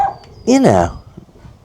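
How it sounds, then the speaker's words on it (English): A single dog bark, close and loud, rising then falling in pitch, with quiet background before and after. "Can you hear the dog barking?"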